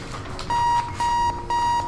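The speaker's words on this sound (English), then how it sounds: "I hate you, stupid alarm noise" Three repeated electronic alarm beeps from the bomb-defusal video game Keep Talking and Nobody Explodes, each a steady tone lasting about a quarter second, evenly spaced and loud, with no talking over them.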